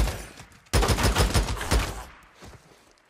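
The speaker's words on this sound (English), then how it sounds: "Look at the gunshots." A burst of rapid gunfire in the video game Days Gone on PS5 rattles off for over a second, followed by a few scattered, fainter shots trailing away.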